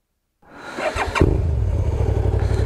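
A Suzuki SV650S 650cc motorcycle engine cranks and fires up after a brief silence, then settles into a deep, throaty, steady idle with a quick rev at the start.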